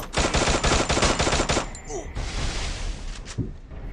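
EVO M1014 shotgun in the Free Fire mobile game, a rapid burst of loud close shots for about a second and a half, followed by a couple of fainter clanks and an echoing tail.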